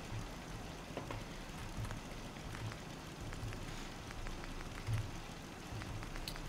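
Steady rain patters on surfaces in the Fallout 4 video game, a continuous soft hiss with occasional faint drips, fairly quiet and uninterrupted.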